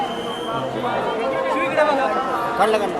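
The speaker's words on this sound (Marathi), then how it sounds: "फक्त गणपती बाप्पांची एक झलक बघण्यासाठी बघा किती गर्दी झालेली आहे" A dense crowd of devotees chatters at the Dagdusheth Halwai Ganpati temple during the Ganesh festival, a continuous close babble of overlapping voices with no single speaker standing out.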